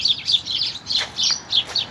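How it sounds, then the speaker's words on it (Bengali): Small birds chirp and tweet in the morning, a quick series of high, bright chirps repeating in irregular bursts, fairly close and clear with no talking. "এই যে পাখির কিচিমিচি শব্দ এই পাখি সকালবেলা"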